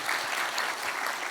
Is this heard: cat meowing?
no